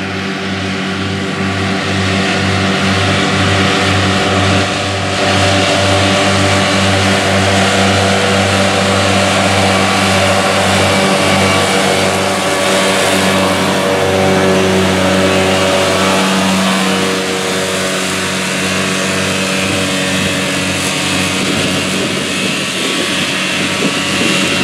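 A John Deere 8245R tractor pulling a hay mower through a field of grass and alfalfa, its engine a loud, steady drone with a deep harmonic hum that holds for the whole stretch, close and alone with no talk.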